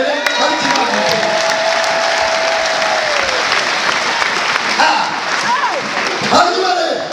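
A church congregation breaks into sustained, loud applause, the dense clapping filling the space while voices call out over it.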